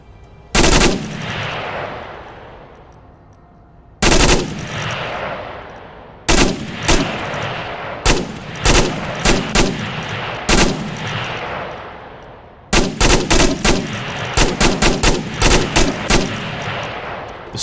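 An M249 SAW machine gun fires in the VR shooter Onward. Loud, close bursts of automatic fire come in short and longer strings. Each burst is separated by a brief pause and trails off with an echoing decay.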